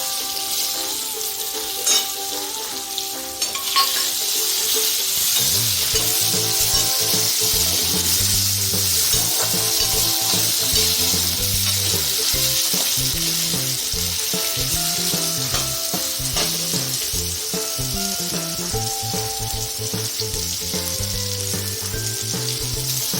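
Tomatoes added to a hot pan for brinjal rice fry and sizzle loudly and steadily, with the rhythmic scrape of stirring close up throughout.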